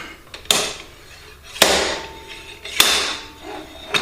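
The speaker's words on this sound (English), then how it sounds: "I'm gonna put this reverse hammer in here." Three sharp metallic impacts spaced about a second apart, each ringing out briefly, from a reverse slide hammer striking repeatedly to pull a shaft out of a 2004 Chevy Cavalier during an engine swap.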